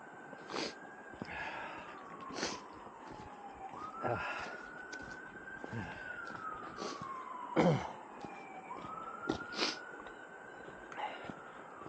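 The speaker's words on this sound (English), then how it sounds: "Well, you can hear that siren," A distant police siren wails in a forest near Ohiopyle, rising and falling in repeated sweeps over a quiet outdoor background, with scattered faint rustles and breaths nearby.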